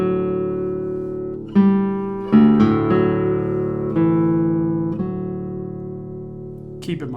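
The bass strings of a 1983 José Romanillos classical guitar are played in a few slow, deep plucked notes and chords, close and resonant, each note left to ring and decay, alone without talk.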